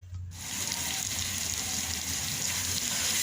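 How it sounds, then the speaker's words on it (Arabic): Meat and onions sizzle in a pan with a steady, soft frying hiss that starts abruptly and continues evenly throughout. "اللحمة اتشوحت شوية في البصل وانزل بقى بالطماطم"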